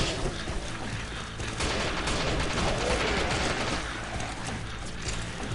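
Gunfire in the video game Killing Floor, a continuous loud rattling barrage of rapid shots and mechanical clatter that runs unbroken from start to end, with no talk.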